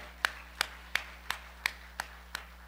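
A church congregation at a festival worship service claps in unison, seven sharp, evenly spaced beats at a brisk steady pulse, fairly faint and distant over a low hum, with no talking.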